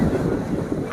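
Sea waves and wind at Shivrajpur beach, a loud, continuous rush of surf with heavy wind buffeting the microphone over one second, and no voices.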